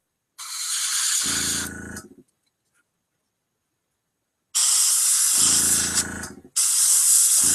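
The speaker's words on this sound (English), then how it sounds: "When I say gold, I'm actually just spraying amber." Aerosol spray of amber paint onto a miniature figure's lance, two loud close hissing bursts separated by silence, the second broken briefly before resuming.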